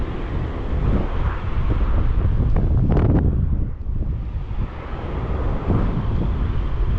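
Wind blows outdoors at a fishing pond in early spring, a strong, continuous rush with heavy microphone buffeting and a brief gust-like swell partway through. No voices are heard.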